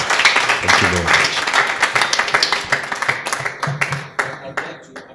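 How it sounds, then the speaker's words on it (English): Workshop audience at a film festival gives applause to the experts, a lively burst of claps with a voice briefly heard over it, thinning toward the end. "give a big round of applause to our experts"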